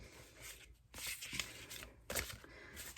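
A large tarot deck is shuffled by hand in a quiet room, giving soft, irregular papery riffles and slides in short bursts, faint and close.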